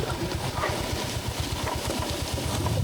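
Motorcycle engine idling nearby during parking on a forest route, steady low rapid putter with a rough mechanical rumble, fairly loud and continuous for a few seconds.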